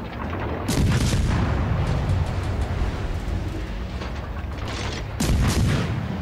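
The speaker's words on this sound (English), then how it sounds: "I'm just taking shots at him right now" A Benham Tier VI destroyer trades gunfire in World of Warships Legends, with loud booming salvos at the start and near the end over a continuous rumbling battle roar.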